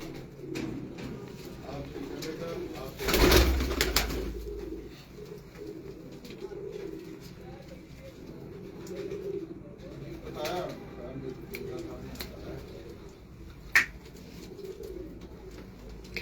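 Pigeons coo on a rooftop in Multan, their soft, low, repeated calls continuing throughout against an outdoor background, with one loud burst of noise early on and faint voices in the distance.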